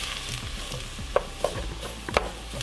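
Flour browns in a pan for roux gravy as part of a camping breakfast of biscuits and gravy. A soft steady sizzle runs throughout, broken by several sharp scraping clicks from stirring, with no talking.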